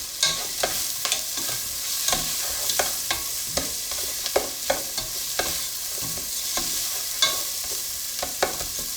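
Onions frying in a hot pan for a chicken curry, a steady sizzle broken by repeated sharp scrapes and clacks of stirring at close range, with no one talking.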